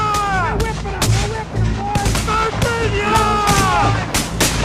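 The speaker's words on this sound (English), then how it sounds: "Colonel Edward Baker, was killed by Confederate gunfire" Civil War battle gunfire sounds as a dense, continuous barrage of rifle volleys and booming cannon blasts. The reports crack and echo over one another with no pause, loud and close, under a layer of shouting voices.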